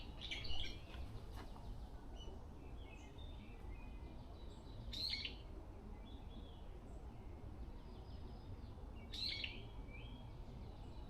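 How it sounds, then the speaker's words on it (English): Brown-eared bulbul calls ring out in a Korean mountain forest, three short sharp squeaky notes spaced several seconds apart over a steady, hissing outdoor background. "That is the brown-eared bulbul"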